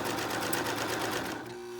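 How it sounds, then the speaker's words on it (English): A sewing machine stitches a sleeve band and side seam together in a rapid, steady whir that stops near the end, leaving a faint hum; close and fairly quiet, with no talking. "finish this sleeve band and side seam together"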